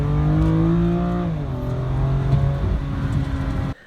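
A BMW M2 Competition engine holds a deep, steady drone up close, its pitch dropping as the revs ease off before the sound cuts out abruptly.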